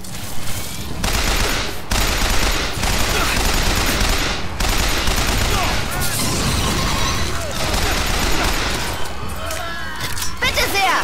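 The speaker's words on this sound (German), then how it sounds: "Also eine Schrotflintenladung und der Gegner ist tot." Shotgun blasts and gunfire in the first-person shooter BioShock Infinite, a dense run of loud booming shots and crashes with game effects, while someone talks over the action throughout.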